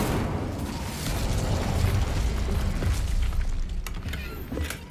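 The Bombarda explosion spell in the video game Hogwarts Legacy gives a deep, rumbling blast that swells and rolls for several seconds, followed by scattered crackles and debris-like clatter as it fades.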